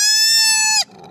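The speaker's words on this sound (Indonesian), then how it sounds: "Koala sendiri juga punya beberapa variasi suara yang juga unik." A koala's call: a single sustained, harmonically rich nasal tone lasting under a second, loud and close, then cutting off abruptly.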